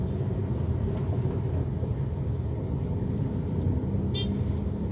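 Steady road traffic on Rosario Ortigas in rainy weather, a continuous low rumble of passing cars with a brief higher hiss near the end, no voices.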